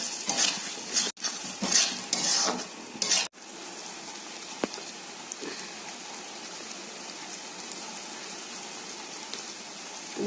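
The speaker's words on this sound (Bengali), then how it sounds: "এখানে কষানো হচ্ছে মশলাটা।" Spice masala for meat frying in a pan over a high flame gives a steady soft sizzle, with a few loud clattering stirs and scrapes near the start before settling into a quieter continuous fry.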